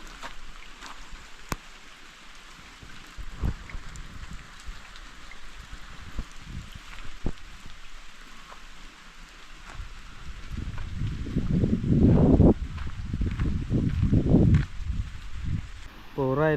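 Rain falls outdoors near a river in the Konkan countryside, a steady broadband patter throughout with heavier gusty bursts in the second half, while voices talk nearby.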